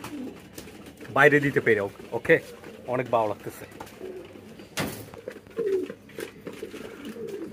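Pigeons coo in repeated soft, throaty bursts nearby while a person talks over them, with a brief clunk partway through.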